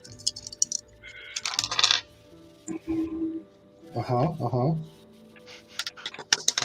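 Several dice clatter and rattle across a table during a tabletop role-playing game, in short bursts with quiet gaps between them, while players talk and laugh nearby.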